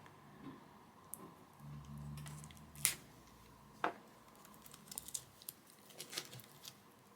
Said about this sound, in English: let's go ahead and get the shrink wrap off of this first